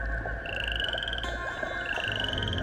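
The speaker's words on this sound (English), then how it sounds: "I'm getting closer to a frog." Frogs croak steadily in the swamp of the King's Quest 8 game, a continuous pulsing chorus layered over a droning ambient background with no talking.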